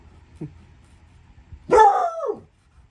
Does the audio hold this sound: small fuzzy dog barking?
yes